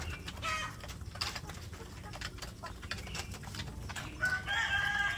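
A rooster crows at a distance amid outdoor clucks of free-range village chickens and ambient farmyard noise, with no talking.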